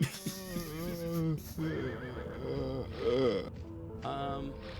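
Horse neighing in the video game Limbo of the Lost, a series of loud, drawn-out whinnies and snorts in quick succession, close and clear with no talk over them.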